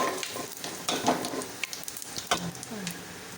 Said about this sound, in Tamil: இப்போ குடல் குழம்பாக தாளித்து விட்டுறலாம்.